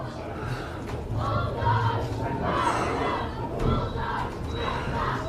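A large crowd at a high school football quarterfinal murmurs and cheers at a distance, a steady roar of many voices rising and falling.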